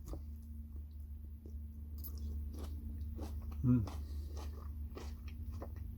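Someone chewing fried onions inside a camping-car, soft close mouth crunches and chewing noises scattered over a low steady hum, with one louder bite near the middle.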